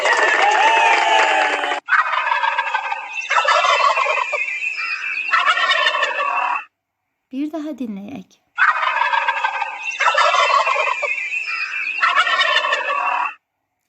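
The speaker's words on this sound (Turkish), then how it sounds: "Bu Hindi kuşu." Loud turkey gobbling in two repeated bursts, with a brief spoken line between them.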